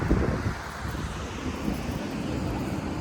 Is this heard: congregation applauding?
no